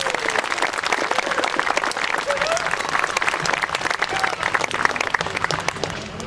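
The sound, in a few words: applause at Memorial Day parade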